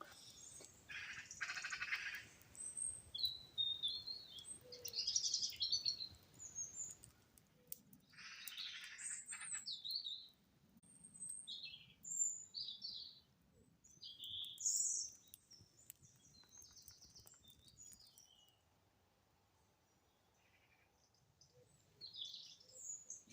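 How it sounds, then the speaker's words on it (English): Many birds chirp and sing at dawn in woodland, wood pigeons, crows and magpies among them, in overlapping phrases against a quiet, hushed background, some calls near and bright, others farther off. "You've got a lot of birds waking up."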